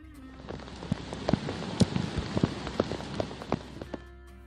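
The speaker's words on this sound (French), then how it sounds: "la pluie, indispensable à la vie, tombe sur la terre" Rain pours steadily onto the ground in a natural outdoor setting, a dense hiss broken by sharp individual drops and splats, close and continuous with no voices.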